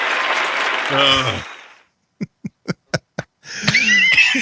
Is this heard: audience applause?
yes